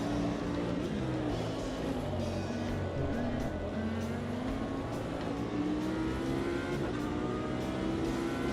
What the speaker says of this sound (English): There's a Nismo coming.